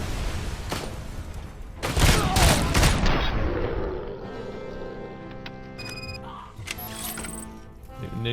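Gunfire in RoboCop: Rogue City: a cluster of loud, rapid shots with heavy impacts, followed by fading rumble and ringing electronic game tones.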